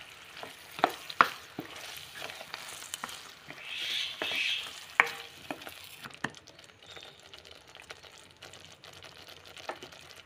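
Egg gravy being stirred in a frying pan, with a steady low sizzle under repeated sharp scrapes and knocks of a spoon against the pan, busier in the first half and quieter toward the end.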